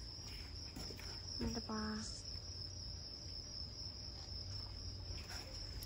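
Insects, with a big grasshopper nearby, chirp steadily outdoors at night in Alaçatı, a constant high trilling chorus heard alone except for a brief spoken word.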